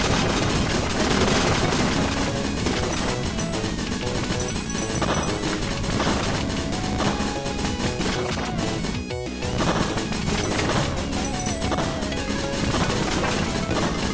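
Cannons being smashed in the video game The Messenger, heard as a loud, continuous barrage of crashing, crunching hits over driving game music that fills the whole stretch without pause.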